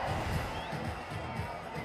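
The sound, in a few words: cricket crowd cheering after a catch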